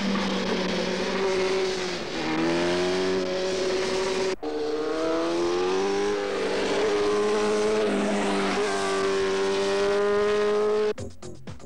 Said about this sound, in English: This endurance race, which is run at Imola, will go on for 24 grueling hours.